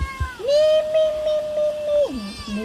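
A domestic cat in a highland Hmong village kitchen gives one long, drawn-out meow, close and clear, followed by a short falling meow and a brief faint follow-up.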